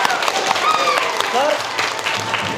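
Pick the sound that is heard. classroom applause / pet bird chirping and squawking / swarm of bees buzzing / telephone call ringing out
classroom applause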